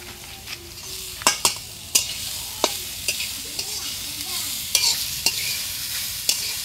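Grated carrots frying for carrot halwa, stirred in a pan with a utensil: repeated sharp scrapes and knocks against the pan over a soft continuous sizzle, fairly close, no talking.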